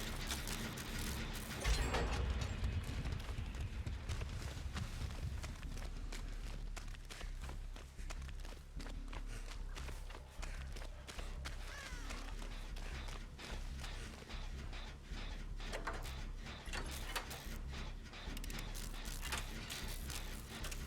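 Generator being repaired in the video game Dead by Daylight, a continuous mechanical whirring and ratcheting clatter running steadily throughout, moderately loud under a faint game ambience with scattered footstep-like thumps.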